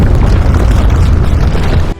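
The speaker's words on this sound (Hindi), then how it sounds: "27 अक्टूबर 1915 अचानक से जोरदार धमाका होता है" A loud, deep explosive boom rolls out as the ship Endurance sinks in Antarctic waters, a heavy rumble that stays strong for about two seconds before cutting off abruptly.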